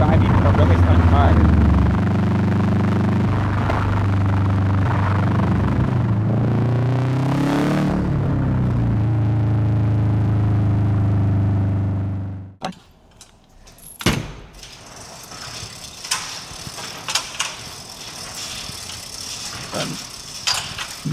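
A Subaru WRX STI drives with a loud, steady engine drone whose pitch rises and falls for about twelve seconds. It then cuts abruptly to quieter cabin clicks and rattles.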